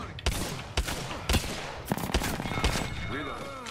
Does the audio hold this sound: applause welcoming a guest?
no